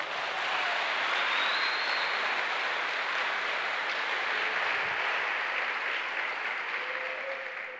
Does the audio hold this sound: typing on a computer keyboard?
no